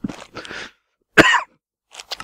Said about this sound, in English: Sorry, it made me cough.